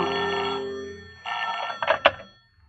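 Old-time radio drama sound effect of a telephone bell ringing: a sustained ring, a pause, then another ring ending in short clattering bursts, close and clear with no voices.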